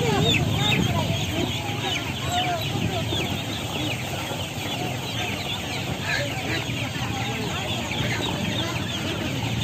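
A dense chorus of cheeping chicks and ducklings fills a busy rural market in Cao Bang, Vietnam, constant high peeping with faint crowd noise underneath.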